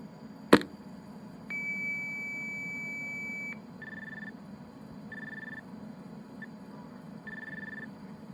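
A brief click, then a steady high electronic tone held for about two seconds, followed by short repeated bursts of higher beeping tones: alarm reporting tones over a phone line into a Radionics D6000 central station receiver.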